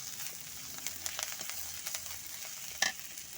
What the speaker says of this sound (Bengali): পুঁটি মাছ এভাবে রান্না করি আমি, ভাজি।